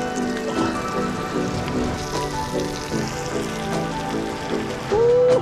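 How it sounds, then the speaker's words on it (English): Steady rain patters and hisses at a seaside rock-ledge campsite, a dense continuous wash of drops close by on surfaces, with no voices. "Just when you think you're in some peace and quiet, there's a serious rain cloud coming over."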